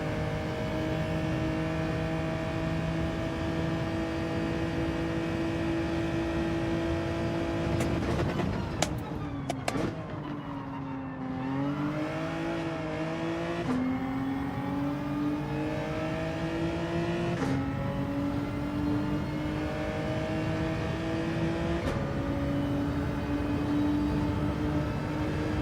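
Race car engines in Gran Turismo 7 on a final lap, a loud continuous whine that drops and climbs through gear changes and revs, steady and close with no talk.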